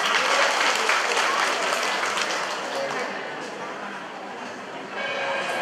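Audience applause at a Lenten hymn concert in a Catholic parish church, welcoming a singer: steady, dense clapping from a crowd that fades slightly and then swells again near the end.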